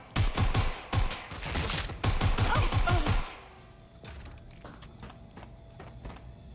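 Gunfire in Watch Dogs: Legion, a rapid burst of sharp repeated shots with clattering noise for about three seconds, then quieter scattered game sounds and faint ticks afterward.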